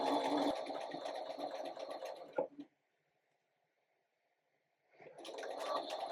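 A sewing machine runs steadily while stitching along an existing quilt seam line, a fast even whir that stops for a quiet pause of about two seconds and then starts again, with no voices.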